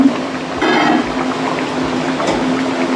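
Fish curry with potato and pointed gourd bubbles in a pot, a close, continuous burbling simmer with soft liquid pops and gurgles and no voices over it.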